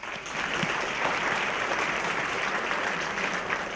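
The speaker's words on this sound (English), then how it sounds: "please give a huge round of applause to our speakers" Audience applause for speakers at a conference event on government secrets: steady, full clapping from a seated crowd lasting the whole stretch, moderately loud and even, with no talking over it.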